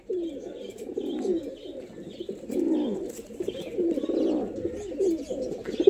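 A pair of tippler pigeons coo in soft, repeated throaty rolls, close and steady throughout, with faint rustling and no talk.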